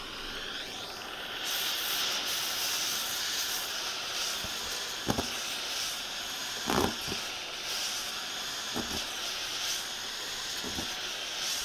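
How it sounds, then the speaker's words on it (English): A steam iron on its turbo steam setting, used to press creases out of a vinyl shower curtain, gives a steady broad hiss with several short louder bursts of steam. "I'm going to turn this on turbo, get a little bit more steam going there"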